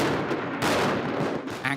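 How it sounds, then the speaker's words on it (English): Gunfire and explosions ring out at a World War II reenactment of the battle for Berlin, with tanks and a life-sized replica of the Reichstag. Loud, dense bursts come in rapid succession and keep going without a break. "It involves tanks, gunfire, explosions, and a life-sized replica of the Reichstag"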